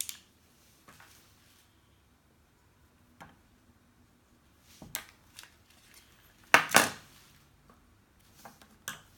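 Felt is cut into two thin 2 mm strips, giving sparse soft snips and crisp clicks scattered through near silence, close up, with the loudest cuts about two thirds of the way through.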